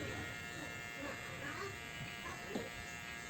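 An electric hair clipper buzzes steadily while cutting hair for a burst fade haircut, a close continuous drone with faint shifts as it moves, and someone talks over it.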